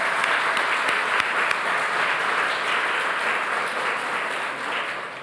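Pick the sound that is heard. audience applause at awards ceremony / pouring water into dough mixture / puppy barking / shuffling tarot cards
audience applause at awards ceremony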